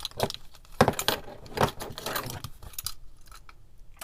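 Car keys, a Leatherman multitool and a titanium keychain flashlight on an EDC keyring jangle and clink in several close, bright bursts of metallic rattling, quieting toward the end.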